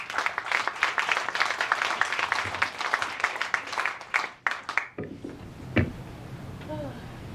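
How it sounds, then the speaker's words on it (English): A round of applause at a toast for critic Phil Freshman, honoring Patty Inglis and Terry Joy: steady clapping for several seconds that cuts off abruptly, followed by quiet room noise and faint talk. "Please give a round of applause for them."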